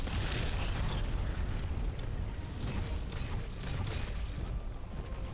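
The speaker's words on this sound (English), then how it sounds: "the explosions come in cycles, so I know I can just wait for the next cycle" Monster explosions in Monster Hunter: World rumble and boom in a dense, continuous roar with bursting pops layered on top, loud and sustained for several seconds without speech.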